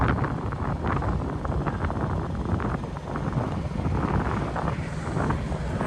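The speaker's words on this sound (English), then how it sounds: "Wind's getting it pretty good." Steady, roaring wind from a blizzard presses on the microphone throughout, a dense continuous rumble with no talking.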